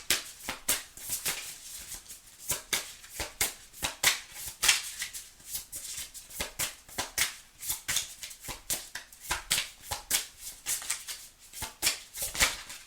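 Tarot cards are shuffled by hand in a close, brisk, continuous pattern of crisp riffling flutters and soft slaps, repeating in quick bursts with short gaps between them.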